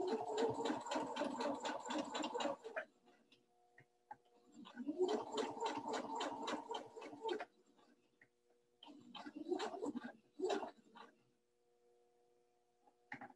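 Sewing machine stitching a quilted table runner, running in three bursts of rapid, even needle strokes with short quiet pauses between them, fairly close and alone.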